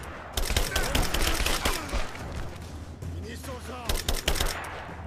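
Pistol gunfire in the video game Rise of the Tomb Raider, with sharp shots in quick clusters over busy game sound while a player talks.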